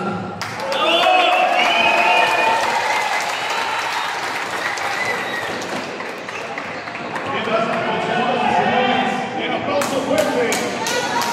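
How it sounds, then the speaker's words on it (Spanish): Loud applause from a crowd at a lucha libre wrestling event honors the winning tag team, steady and dense for the whole stretch, with cheering voices and occasional thuds mixed in. "El aplauso fuerte para la pareja vencedora de esta noche"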